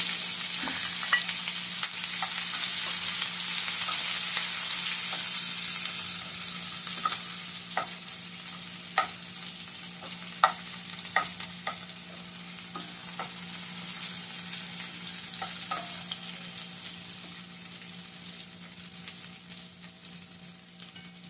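Whole garam masala, cumin and onions fry in oil with a soft, steady sizzle, while sharp ticks and pops from a spatula or spattering oil come through at scattered moments.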